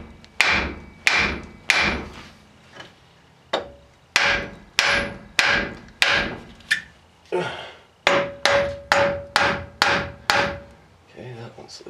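A hammer pounds on a tight front axle steering knuckle of a 1994 Toyota 4Runner, sharp metallic blows landing in a steady rhythm of about a dozen strikes with a few short pauses, some ringing, no talk.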